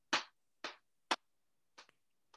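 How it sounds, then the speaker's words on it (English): Hands patting a lap and clapping in a rhythm demonstration, four or five distinct close slaps and claps spaced about half a second apart in a quiet room. "if you could put your hands on your lap twice and then clap once"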